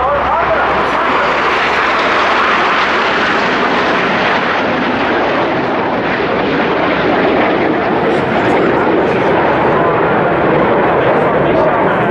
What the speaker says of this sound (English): don't miss the next cross of all the 9 aircraft formation of the Italian aerobatic team